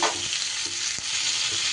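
Ivy gourd (kundri) fries in a pan with a steady, loud sizzle while a spatula stirs it in a few quick scraping strokes.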